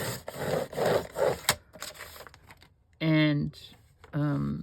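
A paper trimmer blade slides along an envelope folio on a flat surface. Quiet scraping and rubbing follow brief talk at the start, then two short squeaky, tonal strokes as the cutter runs along the paper.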